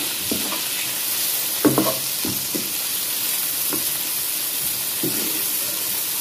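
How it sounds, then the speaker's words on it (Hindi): Chopped tomatoes and deseeded green chillies fry in a pan for black chana chaat, a continuous bright sizzle broken by several sharp scraping stirs, close and alone. "ये मैंने इसमें शामिल कर दिया और इनकी अच्छी से भुनाई कर देते हैं।"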